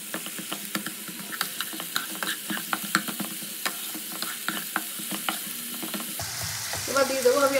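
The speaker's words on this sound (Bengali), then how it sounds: "পেঁয়াজ টমেটো ভাজা হতে হতে দিয়ে দেবো আমি রসুন বাটা।" Onion, tomato and garlic paste frying in mutton fat in a pan, a steady close sizzle with repeated scraping stirs, and the pan's sound shifts near the end.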